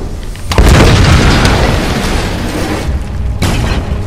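Explosions in Tomb Raider Definitive Edition on PS4: a loud booming blast with a sharp onset, a long rumbling tail, and a second sharp burst near the end, with no talk over it.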